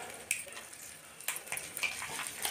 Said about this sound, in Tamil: 3 மிளகா போட்டு நல்லா வறுத்து விட்டுடலாம்.